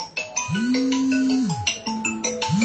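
A phone rings with a short electronic melody of rising and falling tones, repeating in quick phrases, clear and fairly loud with no voices.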